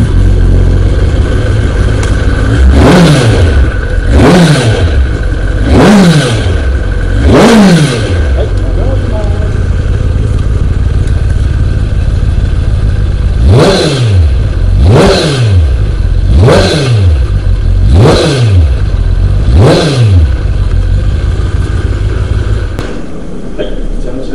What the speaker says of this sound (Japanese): ではエンジン始動、出来上がりいきます。